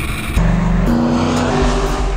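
A track-tuned pony car at Calabogie Motorsports Park, its engine loud and close, climbing through gears with rising revs and a shift midway, steady under acceleration with no talk.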